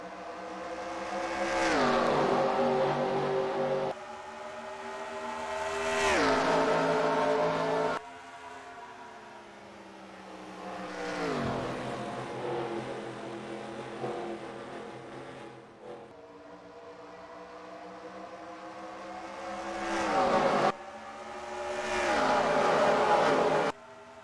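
Stock cars race around the Homestead oval, several engines roaring loudly past in repeated waves, each pass rising and then falling in pitch as the cars sweep by in close succession.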